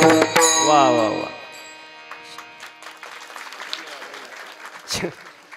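A drawn-out voiced, sung phrase opens the moment, then scattered, uneven clapping rises from the audience at a comedy kirtan, and a voice continues over the claps.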